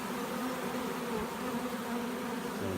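Bees from a hive inside a water meter box, a faint steady swarm buzz with a constant hum, close but soft and without talking.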